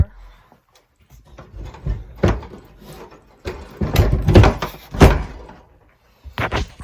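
A broken door hanging off its hinges is opened and closed, with loud wooden knocks, scrapes and a few thuddy bangs up close, while a person talks over parts of it.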